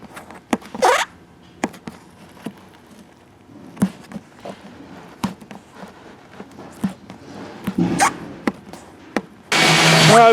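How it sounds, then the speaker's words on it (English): A vacuum cleaner runs inside a 2016 Sandpiper fifth-wheel RV, heard as scattered bumps and nozzle knocks before the motor roars loudly near the end. "What we're doing is vacuuming everything out right here."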